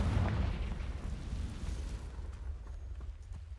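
Confringo blasting-curse explosion in the Hogwarts Legacy video game: a deep booming burst up front that rolls off into a long rumbling decay with faint crackling debris, no talk over it.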